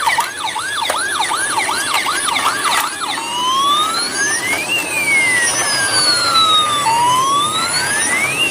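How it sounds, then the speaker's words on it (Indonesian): A toy ambulance siren wails, first a fast yelping cycle, then slow rising and falling tones, loud and close, with no voices. "Sekarang kita lihat ini mobil ambulan teman-teman nih."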